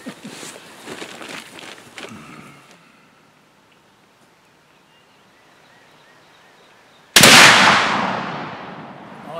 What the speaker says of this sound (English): Oh, that sounds good, that gun.